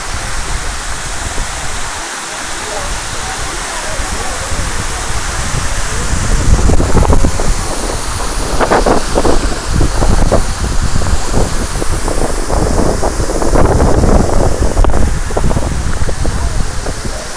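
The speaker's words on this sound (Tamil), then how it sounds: "இதுதான் ஃப்ரெண்ட்ஸ் ஓல்டு குற்றாலம் ஃபால்ஸ்" Old Courtallam falls in Courtallam pour down with a steady, loud rushing roar of water that holds unbroken throughout and swells slightly partway through.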